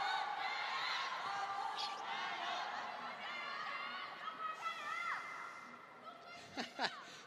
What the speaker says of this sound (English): Players having to wait to hear who wins the cheering argument in the crowd.